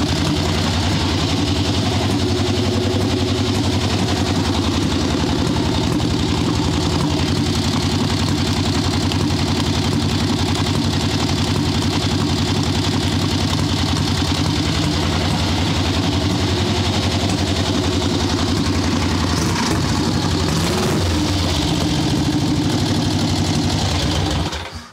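A swap meet chopper motorcycle engine idles steadily after carburetor tuning with the air cleaner off and a lean bog, a loud close continuous mechanical rumble and clatter that holds for the whole stretch before cutting off abruptly at the end.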